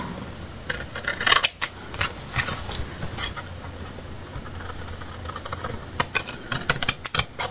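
Scissors snip through paper scraps while a scrapbooking card is being made, with a run of quick, close, crisp cuts and brief pauses between them, fairly quiet.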